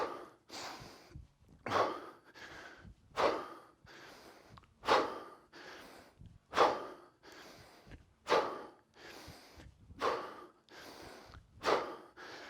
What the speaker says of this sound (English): all you're going to hear is my breathing.